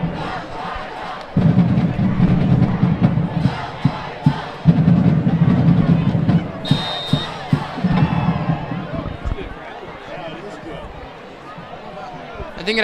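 Spectators at a high school football game between UDHS and Wissahickon roar and cheer in loud surging waves, with sharp shouts and claps breaking through before the noise fades toward the end.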